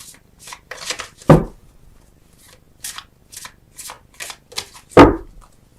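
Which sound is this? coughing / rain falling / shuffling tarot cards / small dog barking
shuffling tarot cards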